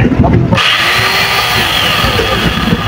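A grinding machine fitted with an adapter, a salvaged item from ship-import auction goods, runs with a loud, steady mechanical whine and broadband roar that starts abruptly after a brief moment of talking.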